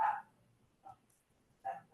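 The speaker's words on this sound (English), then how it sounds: "My dog is currently going crazy at somebody else again." A pet dog barks somewhere in a home, three short sharp barks spaced apart, the first loudest, with near silence between them.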